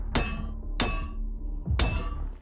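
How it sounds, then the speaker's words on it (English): Sledgehammer smashing through in the Project Zomboid video game, three loud, sharp impacts spaced roughly evenly apart, each ringing briefly before fading. "With this sledgehammer, I can go where I please."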